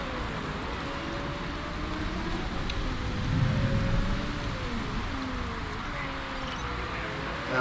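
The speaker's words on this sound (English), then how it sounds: "The rain's gonna linger around" Rain falling steadily in a racing video game set in Singapore, a soft continuous hiss with engine tones gliding up and down underneath, faint and even throughout.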